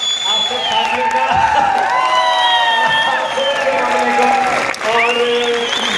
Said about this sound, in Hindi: एक बार जोरदार तालियां होनी चाहिए इन सारे दिग्गज लीडर्स के लिए